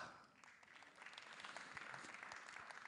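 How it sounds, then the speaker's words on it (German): Restrained applause from an audience at a jury scoring round, a soft steady patter of clapping that swells slightly after the first second and stays fairly quiet throughout. "Oh, verhaltener Applaus äh, und leises Buhn."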